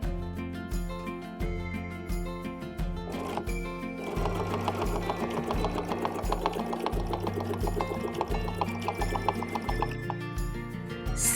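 A sewing machine stitches three-quarters of a circle along a template in a steady, rapid needle rhythm that runs continuously throughout. A constant tonal hum or background music sits under the stitching.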